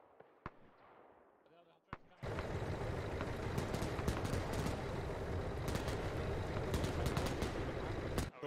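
Heavy gunfire in a military video game starts abruptly after a quiet moment and continues as a dense, loud barrage of rapid shots, with voices speaking briefly beneath it.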